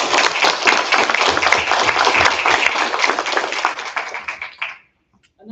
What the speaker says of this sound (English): Let's give a round of applause for them.